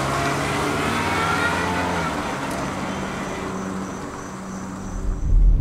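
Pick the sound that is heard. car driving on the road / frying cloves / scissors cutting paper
car driving on the road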